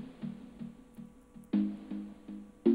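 A trap-beat chord progression plays with its second chords pushed half a beat and a full beat earlier, giving short syncopated stabs with sharp attacks, quiet and without voices.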